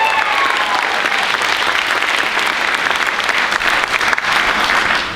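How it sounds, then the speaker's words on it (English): An audience at a high school band winter concert applauds the trumpet soloist, a loud, full and sustained round of clapping heard close and unbroken throughout. "Another round of applause also for our trumpet soloist"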